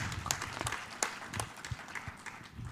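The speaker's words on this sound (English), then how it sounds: "A round of applause for our panelists." Audience at a youth energy conference applauding its panelists, a scattered, moderately close round of clapping with uneven claps, no voices over it.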